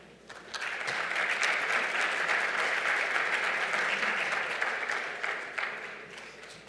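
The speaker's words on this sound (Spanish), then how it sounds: "Aplausos para ellos." An audience at an electricity-sector panel forum applauds the panelists, a dense burst of clapping that rises quickly, holds steady for several seconds, then tapers off.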